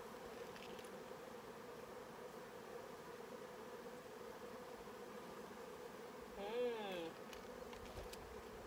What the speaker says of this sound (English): I'm looking at my bees.